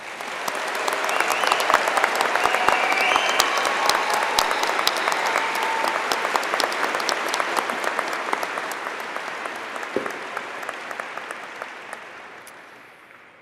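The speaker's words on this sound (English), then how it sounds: "Please join me in giving our scholars a big round of applause." Audience applause for scholars at a spring medals ceremony, a broad sustained wash of many hands clapping that swells early, holds steady for about ten seconds, then gradually tapers off.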